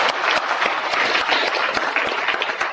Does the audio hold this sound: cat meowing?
no